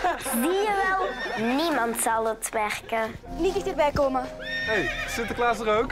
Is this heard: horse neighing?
yes